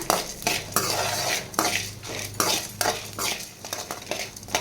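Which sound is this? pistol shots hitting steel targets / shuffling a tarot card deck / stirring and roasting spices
stirring and roasting spices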